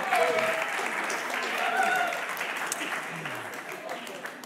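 Sustained applause from a worship audience fills the space, a dense steady clatter of many hands with scattered voices and a brief sung or spoken tone beneath.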